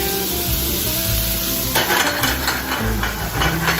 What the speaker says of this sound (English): when almost finish time, add the garlic